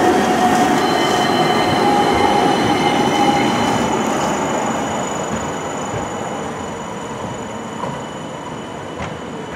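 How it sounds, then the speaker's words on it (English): A tram heading to New Street in Birmingham rumbles past close by, steady rolling noise with a faint wheel squeal, slowly fading as it moves away. "here comes the next tram heading to New Street"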